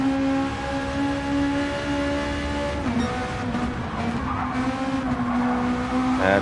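A high-revving race car engine in a Volkswagen Beetle with a seventh gear whines continuously and loudly, its pitch shifting as it changes gear, with no voices.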